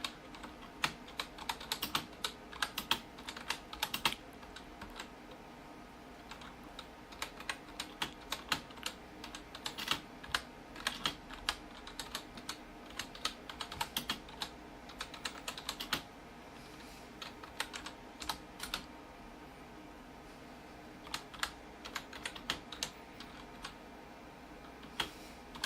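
Typing on a computer keyboard, entering a link: quiet, close, irregular bursts of rapid key clicks that start and stop over a faint steady background hum, with no voices.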